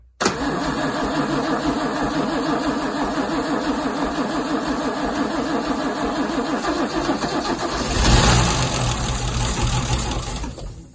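An MGC 3.0-litre straight-six that had been garaged for 33 years and has low compression, cranking steadily on the starter with a rapid, loud, even churning rhythm that grows heavier near the end.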